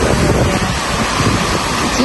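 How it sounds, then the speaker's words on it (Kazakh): Heavy rain and gusting wind batter an outdoor spot in Almaty, a dense, loud roar of broadband noise with microphone buffeting, constant throughout. "Өте қатты жаңбыр жауып тұр қазір."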